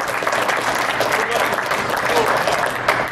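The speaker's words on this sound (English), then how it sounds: "Give these guys a round of applause" A crowd at a truck show applauds in a dense, steady burst of clapping, with a faint cheer or voice mixed in near the end.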